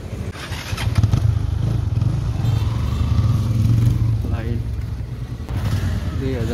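A motorcycle engine runs with a steady, loud low rumble that continues without break, while people murmur nearby, likely at a fuel stop.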